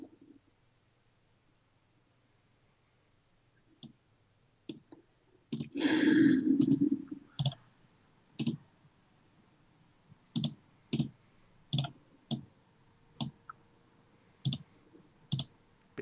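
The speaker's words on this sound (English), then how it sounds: "Bit too much clicking going on over there, David." A computer mouse clicks repeatedly during a Pokémon theme-deck match, giving sharp, light taps in an irregular series, fairly close, after a short burst of rustling and with no talk.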